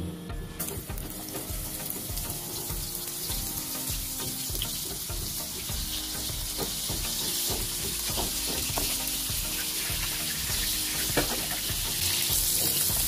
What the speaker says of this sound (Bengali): এখন মাছটাকে আমি হলুদ ও লবণ দিয়ে মেখে ভেজে নেব।